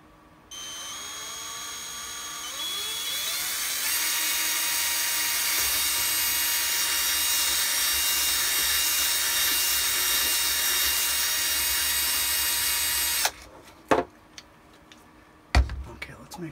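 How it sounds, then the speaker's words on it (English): A power drill bores a hole through a Shadow Trooper costume armor part, whining steadily and rising in pitch for about twelve seconds, then stopping, followed by a few sharp clatters and knocks. "I'm going to carefully drill this."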